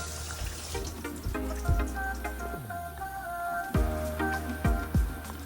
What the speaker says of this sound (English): So I drain the water completely,